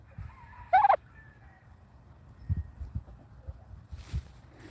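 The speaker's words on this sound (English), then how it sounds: "one of the chickens" Free-range chickens on a farm give one brief, loud, close squawk early on, followed by soft scattered clucks and scratching sounds over a low outdoor rumble.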